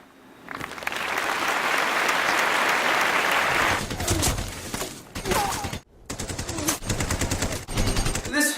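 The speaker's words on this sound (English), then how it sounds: "First up on the block is the machine gun." Rapid rattling bursts of machine gun fire from a World War I era automatic weapon, a long dense roll followed by several choppy bursts separated by brief gaps, loud and close with no voices.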